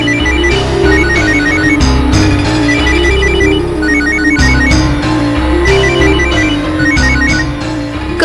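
A phone ringtone plays steadily and loudly as an unanswered call waits, a bright repeating electronic melody over a rhythmic backing that loops without pause and with no talking.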